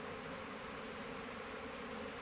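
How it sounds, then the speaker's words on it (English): A large swarm of bees hums as a dense, continuous drone, fairly faint and steady over a couple of seconds with no voices. "This is a lot of bees for a swarm."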